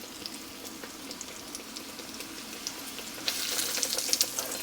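Cornmeal-coated lobster tails drop into hot oil, and a soft crackle swells into a loud, dense sizzle with scattered pops that stays bright and close to the end.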